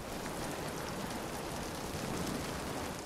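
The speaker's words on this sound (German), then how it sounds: "Hier regnet es." Rain in Uncharted 4, a steady, dense hiss of falling drops with no distinct individual impacts, constant and even throughout.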